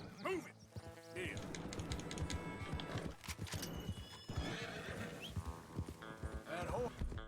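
Horse hooves clip-clopping in the Red Dead Redemption 2 video game, with loud whinnies and neighs over a busy, continuous game soundscape.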